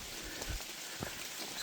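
Steady rain patters and hisses all around on Vermont's Long Trail, with a few soft low thumps mixed in, no voices.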